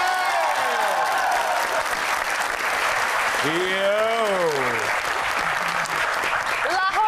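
Studio audience applauding for Lahore Qalandars cricket supporters on a Pakistani TV game show, continuous loud clapping with voices calling out over it.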